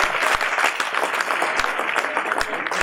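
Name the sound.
audience applause at a quiz contest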